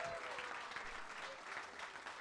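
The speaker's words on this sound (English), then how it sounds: "How about a round of applause for Grant and Veda for letting the guys in?" Audience applause at a live sports clubhouse event, a steady wash of clapping from a crowd that holds evenly throughout with no gaps.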